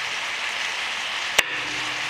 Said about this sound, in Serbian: Dok se luk i meso prže, iseckat ću 2 šargarepe.